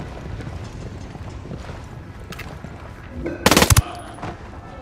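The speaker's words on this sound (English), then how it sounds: "Opening fire." Squad gunfire erupts in a Ghost Recon Wildlands firefight: a short, loud burst of rapid automatic shots about two-thirds through, over a low, busy battlefield background.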